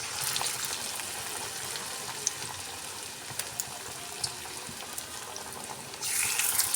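Bengali onion pakoras (peyaji) fry in hot oil with a continuous, dense sizzle. A few small pops rise above it, and the crackling swells louder near the end.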